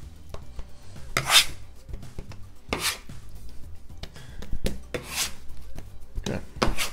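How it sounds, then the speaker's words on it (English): Dough scraper folding calzone dough halves together: repeated soft scraping and rubbing strokes against a surface, close and fairly quiet, spaced about a second apart with faint handling noise between. "I'm just going to take my dough scraper, kind of fold them into each other, make sure everything's incorporated evenly"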